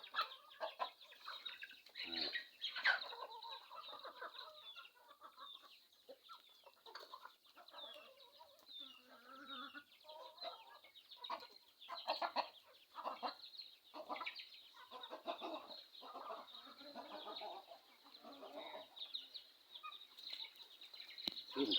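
Chickens cluck and chatter steadily throughout around midday by rice fields, with several birds calling at moderate distance over a constant high-pitched background hum.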